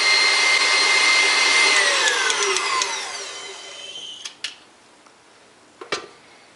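Electric mixer on high speed whipping egg whites, whirring loudly at first, then winding down in pitch until it stops, followed by a few quiet clinks of utensils against a bowl.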